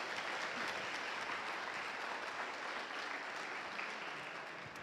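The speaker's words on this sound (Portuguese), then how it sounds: "Dá uma salva de palmas aí" A congregation at a sermon by a female pastor gives a sustained round of dense applause that holds an even, full level for about five seconds, then eases slightly at the end.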